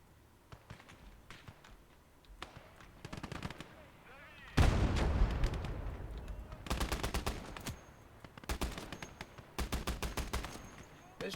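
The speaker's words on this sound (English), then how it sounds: "This Dishka does way too much damage" A DShK heavy machine gun firing in a Soviet-era war video game, loud close bursts of rapid automatic fire in several volleys, with a big blast and rumble and scattered distant gunshots between bursts.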